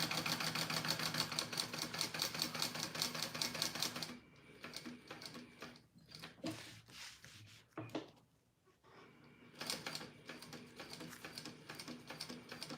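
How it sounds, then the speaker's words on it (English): A sewing machine bastes the top of a fabric purse in rapid, rattling runs, loud for the first few seconds and again near the end, with quieter handling noises in between. "now I'm just basting this top, and then I'll top stitch it around the other edges"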